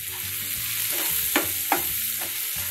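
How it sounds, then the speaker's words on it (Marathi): Onions fry for a dried fish dish, a bright, steady sizzle filling the pan, with a couple of crisp spatula scrapes as they are stirred, close and with no speech. "कांदा छान परतायचा"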